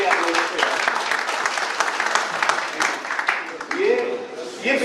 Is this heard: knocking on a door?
no